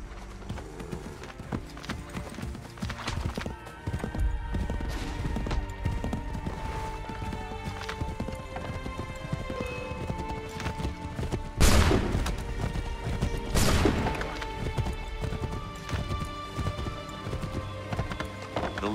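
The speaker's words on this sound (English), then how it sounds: "Take that horse, Ratonhnhaké." A horse gallops in the video game Assassin's Creed III, a rapid continuous clip-clop of hooves carrying throughout, with scattered gunfire-like bursts and a couple of louder impacts partway through.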